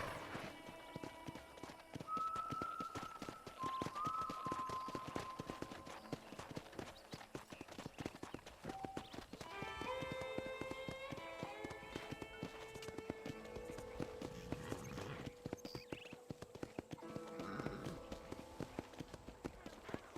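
Hooves clip-clop in a steady walking rhythm on hard ground, fairly close, with faint voices and a brief whinny-like tone in the background.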